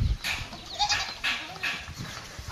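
Goats kept in a pen bleat in short, nasal cries that rise and fall, three or four calls at a moderate distance over a steady background hiss during rainy weather on a farm.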